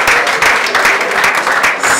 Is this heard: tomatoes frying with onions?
no